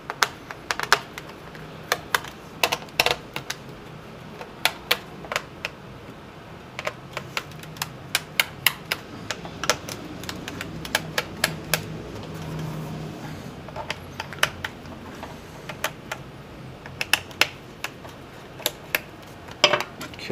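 Cover being taken off a Dell Inspiron 1525 laptop, a run of sharp plastic clicks, taps and small snaps scattered irregularly across the clip, close and crisp over a low background hum.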